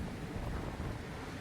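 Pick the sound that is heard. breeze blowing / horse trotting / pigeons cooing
breeze blowing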